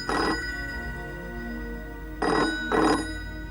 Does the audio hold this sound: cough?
no